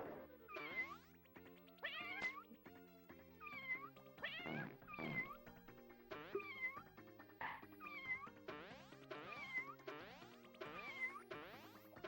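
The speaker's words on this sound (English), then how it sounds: "Somehow the cats in this game, Sark, are noisier than Jump King." Cartoonish cats meowing in the SNES game The Addams Family: Pugsley's Scavenger Hunt, a steady run of loud, bright, repeated meows and yowls stacked over a bouncy chiptune melody.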